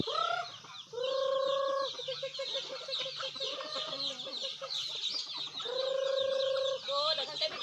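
Chickens cluck in a rural provincial yard, giving repeated drawn-out calls and short clucks close by, with a pair of longer, tonal squawks standing out above a low background.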